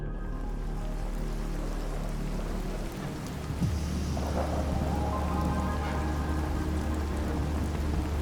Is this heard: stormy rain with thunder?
yes